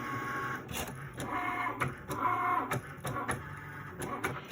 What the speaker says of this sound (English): while your vinyl is being cut on your Cricut machine